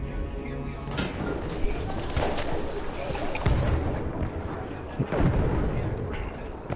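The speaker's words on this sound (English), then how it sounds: "They're just lobbing grenades down here." Grenades burst during combat in the video game Battlefield 1, with several booming explosions and rumbling thuds scattered among gunfire and battlefield clatter while a player talks over them.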